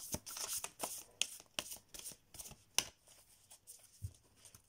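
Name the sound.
tarot cards being shuffled and clacking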